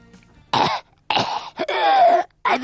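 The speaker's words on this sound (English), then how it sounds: "and he was coughing." Several harsh coughs in separate bursts, close and loud, with short silent gaps between them and a raspy, throaty quality.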